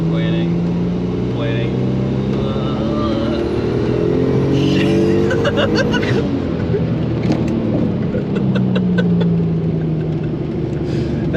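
A single-turbo Audi B5 S4 engine revs and pulls hard with noticeable turbo lag, a loud sustained roar rising in pitch, with people talking inside the car over it.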